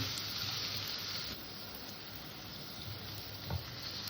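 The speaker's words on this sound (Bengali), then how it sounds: "গ্যাসটা ছোটো করে দিয়ে একটু টাইম নিয়ে আলু কটাকে ভালো করে ভেজে নেব" Steady low sizzling of potatoes frying in oil over low heat, a continuous crackling hiss with no voices, holding even throughout.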